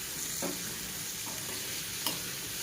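Steady pan sizzle with a few scraping strokes of a spoon as seasoned boiled peanuts are stirred, close and continuous, no voices.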